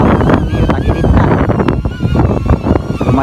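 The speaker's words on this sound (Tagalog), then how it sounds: "Tingnan nyo kung ano kalakas yung hangin, oh." Strong, gusty wind buffets and roars around a hovering DJI Neo drone outdoors, loud and close on the microphone, with a voice talking over it.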